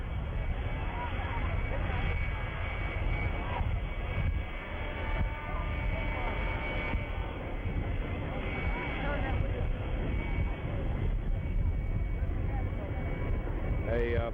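The presidential airplane taxis at Love Field with a fire truck following, its engines a steady, loud roar that fills the whole stretch while a commentator talks over it.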